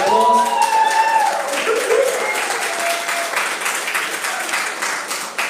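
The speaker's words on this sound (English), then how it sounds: "Can you please give him a big round of applause?" An audience at a tech panel discussion claps loudly for an introduced panelist, a dense, steady round of applause that carries on throughout, with some voices mixed in.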